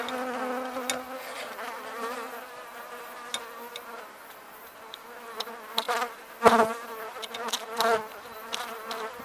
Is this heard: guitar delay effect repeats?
no